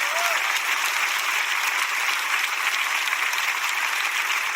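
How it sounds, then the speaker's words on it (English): A church congregation claps together in a sustained, dense burst of applause that fills the room evenly from start to finish. "Everybody who came to church physically, clap."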